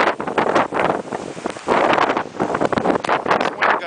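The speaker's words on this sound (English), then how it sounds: "This is what it feels like to be in a blizzard." Blizzard wind gusting to about 50 mph, loud roaring buffeting against the microphone in uneven surges, close and harsh throughout.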